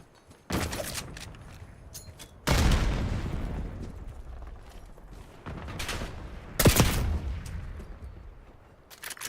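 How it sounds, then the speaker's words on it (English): A frag grenade and gunfire in a shooter video game: several loud, sharp bursts with blasts that ring out and fade between them, spread across the clip at irregular intervals. "Frag thrown."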